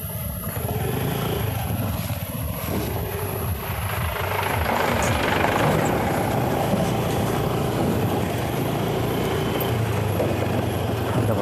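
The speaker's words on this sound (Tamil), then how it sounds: "இங்கே பாருங்கள், அங்கேருந்து ஒரு வண்டியும் வருதுங்க." A vehicle coming the other way on a narrow road through dense forest near Kotagiri, a steady broadband engine rumble that builds and swells louder around the middle as it draws near, continuing close by to the end, with no talk.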